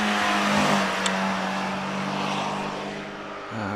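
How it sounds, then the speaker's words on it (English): A 2-litre Renault Clio Sport race car at the Prescott hill climb, its engine note a loud rasping drone that holds steady and then rises with a fresh burst of revs at the end. "Stephen Sims gets away in that 2-litre Renault Clio Sport"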